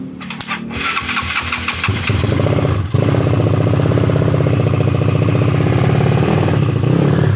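A flathead motorcycle engine with a teardrop pipe sputters through a rough start, then settles into a loud, steady, close idle with a continuous throb.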